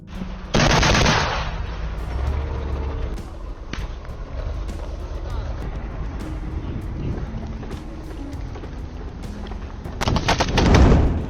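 Combat gunfire from a Ukrainian T-64BV tank and a BTR-4E Bucephalus armored vehicle firing at infantry in tree lines, loud sustained bursts of automatic fire with a heavy rumbling background and denser volleys at the start and end.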